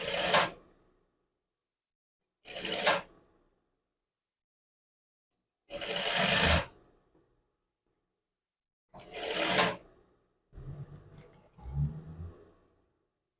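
Short separate runs of a sewing machine backstitch the collar of a man's chef jacket, each burst lasting under a second with silent gaps, followed by quieter handling sounds of fabric and machine parts.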